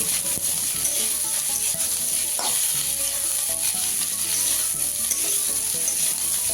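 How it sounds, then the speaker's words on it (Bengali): Chopped carrots and beans sizzle steadily in a pan of oil while a utensil stirs them in soft repeated strokes, close and continuous with no speech. "এবার সবজিগুলো একটু ভালোভাবে মিশিয়ে নেব"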